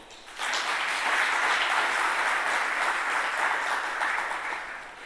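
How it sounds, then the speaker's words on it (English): Audience applause for the sponsors and knowledge partners at a welcome address, a steady wash of many hands clapping that swells in quickly and holds loud for several seconds before tapering slightly. "Please give them all a round of applause."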